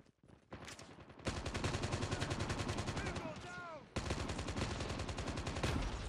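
Rapid bursts of gunfire in the mobile shooter Call of Duty Mobile, a dense stream of shots that drops briefly mid-way and then picks up again.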